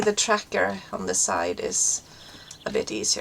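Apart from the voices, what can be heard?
No distinct noise like a dog, phone or traffic.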